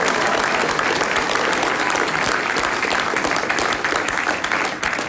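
A large crowd applauds at a Trumpet of Patriots launch event, thick loud clapping that runs steadily for several seconds and tapers slightly at the end.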